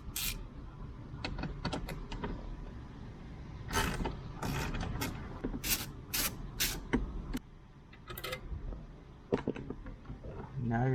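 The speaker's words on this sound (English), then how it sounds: "Pull those out and the whole head unit comes out." Trim clips and sockets being pulled as the head unit comes out of a Toyota 86 dashboard: a series of sharp plastic clicks, creaks and rattles, close and moderately loud, with handling noise between them.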